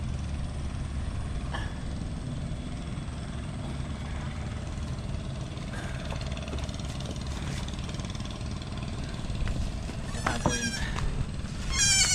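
Goats bleat a few times near the end over a constant rumbling engine drone, their wavering cries fairly close.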